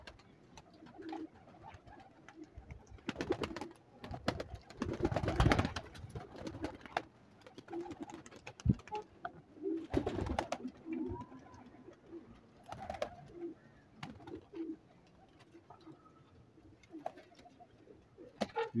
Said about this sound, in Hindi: ये कबूतर हैं दोस्तों सारे